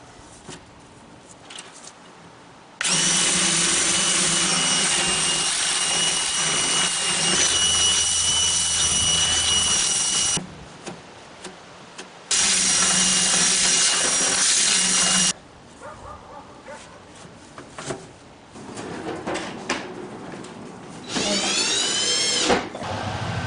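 Vacuum cleaner running over the top of a wood stove that has been taken apart for cleaning, loud steady drone in long bursts, switched off and on between passes.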